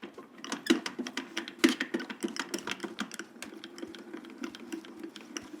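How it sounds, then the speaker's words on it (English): An embossing folder is cranked through a Grand Calibur die-cutting machine, giving a quick run of rhythmic clicking ratchet ticks, close and fairly quiet, with no talk. "run it through the grand caliper"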